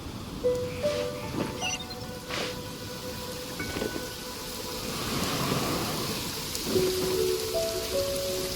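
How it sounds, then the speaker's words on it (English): Steady rain falls in Genshin Impact with low rumbles of thunder beneath it, a continuous hiss that swells slightly midway while brief musical game tones ring out over it. "The rain won't slow me down"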